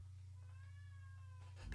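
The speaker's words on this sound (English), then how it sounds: "the cat didn't like that song" A cat meows in one drawn-out, wavering cry lasting over a second, moderately close, above a steady low rumble of a moving train, with a louder burst of noise at the end.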